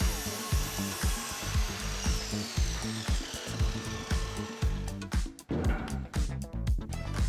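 Saw cutting wooden panels for a portable dart cabinet, the blade making a steady rough rasp with repeated strokes and short pauses, loud and close, with a sharp break near the end before cutting resumes.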